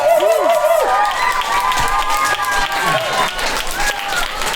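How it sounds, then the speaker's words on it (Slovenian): An audience applauds young rappers at a live rap event, with loud clapping and some crowd noise blended with whoops, whistles and voices over it. "En velik aplavz za tele moje mlade reperje tule."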